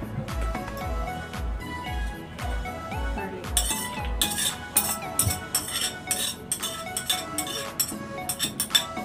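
Spring onions and garlic are mixed for kimchi, with repeated close clinks and scrapes of a utensil against a bowl that speed up into quick, sharp taps partway through. No one speaks.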